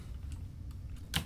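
Computer keyboard typing while code is entered, with light irregular key clicks, close and quiet, ending in a short louder flurry of keystrokes.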